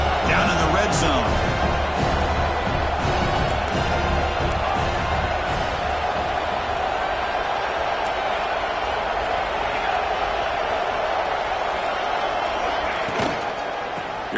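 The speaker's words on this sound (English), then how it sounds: "And the crowd coming to life here, trying to help this defense down in the red zone" A football stadium crowd during a college game, a loud continuous roar of cheering and noise that swells through the whole stretch while a commentator talks over it.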